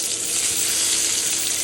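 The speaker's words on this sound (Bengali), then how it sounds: "ডিম ভাজা হয়ে গেছে, এবার উঠিয়ে নেব।" A salted, turmeric-coated egg sizzles loudly and continuously in hot oil in a pan for egg korma, a steady close frying hiss with no talking.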